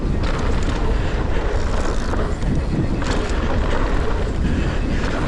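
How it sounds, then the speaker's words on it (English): Steady, heavy wind buffeting the microphone at a bike park, a loud continuous roar with gusty swells throughout and no voices. "Oh, it's actually surprisingly windy"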